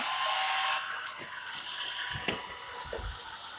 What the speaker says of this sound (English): let me come in here with my blow dryer on cool